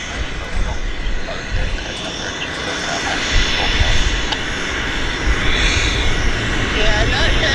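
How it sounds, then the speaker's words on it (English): Cessna Citation medevac jet at Vancouver Airport, a steady loud engine roar with a broad rushing hiss, sustained throughout with people talking underneath. "This is a medevac citation, Cessna citation."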